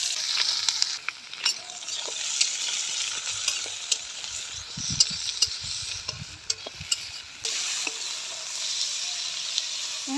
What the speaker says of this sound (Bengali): এখন আমাদের কড়াইয়ে দেওয়া হচ্ছে মশলাপাতি, গরম মশলা, তেজপাতা,